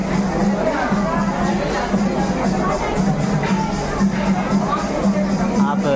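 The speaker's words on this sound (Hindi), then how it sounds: "आप देख सकते हैं भीड़, श्रद्धालुओं की भीड़ कितनी है।" A large crowd of devotees gathers at a temple in Dehradun during a bhandara, giving a steady, close hubbub of overlapping voices and chatter that runs through the whole clip without pause.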